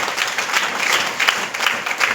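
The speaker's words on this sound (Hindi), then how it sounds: "ऐसे तालियां बजा रहे हैं आप लोग की बरसात आई और चली गई" A crowd at a Tiens business meeting claps heavily and continuously, a thick, loud wash of applause that stays even from start to finish.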